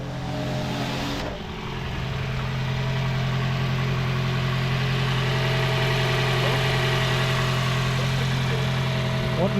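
A Toyota Harrier hybrid engine idles steadily with a low, even hum and slight vibration, close and continuous after a brief change early on.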